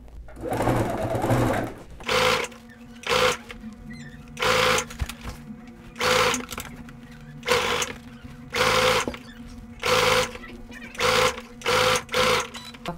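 A sewing machine stitches bias binding onto a basic adjustable dress in short repeated bursts, each run a second or so long with brief pauses between, fairly close and alone with no talk.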